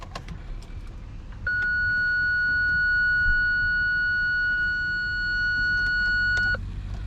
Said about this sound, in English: I hear it longer than 5 seconds, this beep noise.